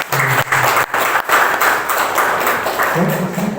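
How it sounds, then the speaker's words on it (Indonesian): Steady audience applause for a professor at a community seminar, dense and loud clapping that sustains for several seconds with a few brief dips. "Boleh berikan tepuk tangannya untuk Pak Prof."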